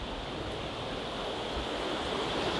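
Steady broadband rushing of a river flowing, constant and fairly close, with no voices over it.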